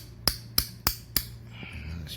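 Four sharp, evenly spaced taps strike a Samsung dryer thermal fuse, crisp close clicks at a steady beat, followed by a faint low hum.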